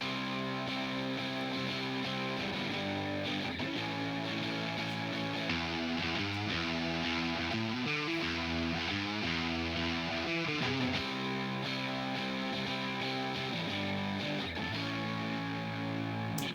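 Distorted electric guitars play a dense, loud solo passage over a full band, trading melodic lines continuously without pause.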